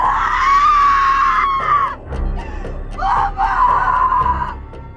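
In a horror film scene, a woman screams loudly and shrilly in a long wail that breaks off, followed by a second piercing scream after a brief, lower-pitched gasping pause.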